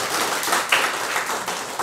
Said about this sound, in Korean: 다시 한 번 더 우리 박수로 격려하겠습니다.